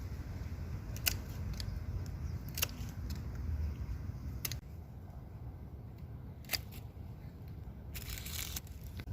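Pruners snip through rose stems while spent blooms are deadheaded, giving several sharp, isolated clicks spaced a second or two apart over a low outdoor rumble, with a brief rustle near the end.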